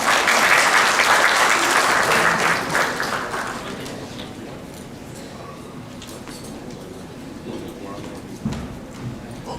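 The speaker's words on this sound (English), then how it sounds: "Can we have another round of applause?" Audience at a startup investors' summit elevator pitch session claps loudly for a few seconds, the applause then thinning into scattered clapping and room noise with a voice speaking.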